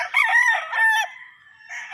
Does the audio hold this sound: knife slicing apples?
no